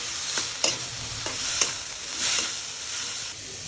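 Food fries in a pan after a pinch of salt goes in, a continuous close sizzle broken by several quick scraping stirs at uneven intervals.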